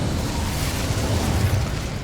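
The Incendio fire spell in Hogwarts Legacy erupts with a loud, sustained whooshing roar that rumbles on for about two seconds.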